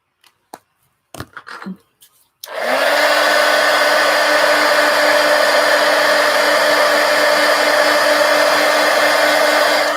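Hair dryer switched on near a watercolor painting to dry fresh maroon-green paint, starting after a few soft clicks and handling taps, then a loud steady whir with a constant motor hum that continues alone to the end.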